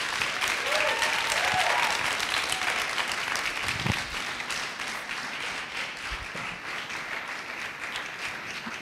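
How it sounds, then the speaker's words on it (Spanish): Loud, sustained audience applause at a church-style gathering after a couple's testimony, a dense wash of clapping that holds steady for about four seconds and then eases slightly as it continues to the end. "Qué tal si le damos un aplauso más fuerte a Rebe y a Alex?"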